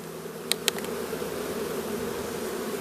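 Bees buzz at an opened beehive in a close, continuous drone, steady and moderately loud, with two brief sharp clicks near the start.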